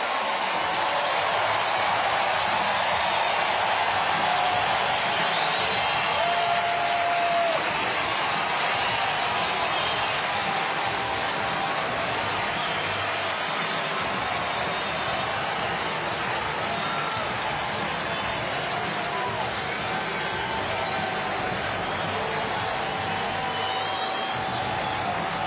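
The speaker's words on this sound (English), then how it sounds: "Listen to the applause." A big baseball stadium crowd applauds Jonny Gomes at a night game against Washington, a steady, broad wash of cheering and clapping that holds for about twenty-five seconds without letting up.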